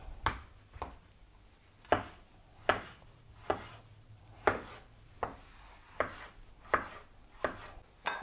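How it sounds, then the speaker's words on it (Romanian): A knife chops a washed tomato into small cubes on a cutting board, giving about a dozen sharp, evenly spaced knocks close by with no voices. "cu roșia bine spălată și o tăiem și pe ea în cubulețe"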